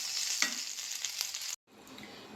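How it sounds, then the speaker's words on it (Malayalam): Quiet, steady sizzling of okra frying in a pan with a few light stirring clicks, cutting out briefly before the hiss resumes. "അതിലേക്ക് നമുക്ക് ഈ വെണ്ടയ്ക്ക ഇട്ടിട്ട് ഒന്ന് വറുത്തെടുക്കാം"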